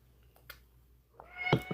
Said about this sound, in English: Please don't meow through my whole live or I'm going to have to put you up